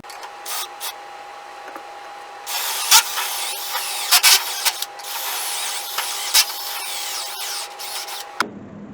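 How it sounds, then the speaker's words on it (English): A drill boring holes through a Beadlock Pro joinery jig, a steady high whine with bursts of louder cutting noise before stopping abruptly near the end. "now that I've drilled the first 2 holes"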